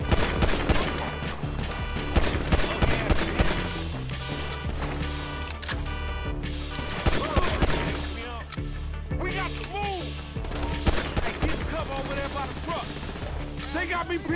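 Gunfire in the Grand Theft Auto V repossession mission: dense, rapid bursts of automatic shots and scattered single cracks run continuously and loudly, mixed with game sound effects and voices.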